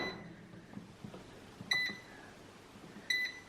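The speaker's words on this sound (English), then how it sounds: "Okay, so my air fryer just beeped." Two short electronic beeps from an air fryer, spaced about a second and a half apart, over faint background noise.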